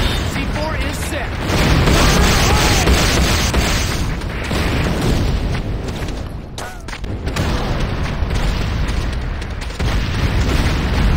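Loud, dense battle din from the Command & Conquer game Renegade, with a heavy C4 charge detonating amid continuous booming blasts and gunfire that swell and pause throughout, while a voice speaks over the chaos.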